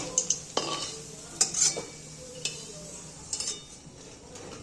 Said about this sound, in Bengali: এইগুলি আমি এবার কড়াই থেকে তুলে নেব।